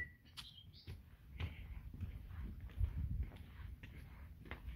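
Small birds give scattered, faint chirps along a mangrove trail, set against a steady outdoor background rumble with soft footstep-like thumps underneath.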